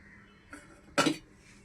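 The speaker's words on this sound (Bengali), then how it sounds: "একটা শক্ত চাপা ওপরে দিয়ে দিলাম।" A firm lid set down on a pot of pointed gourd with yogurt, placed over a wok of hot water for steaming: a soft touch, then one clear metallic clunk, close in a quiet room.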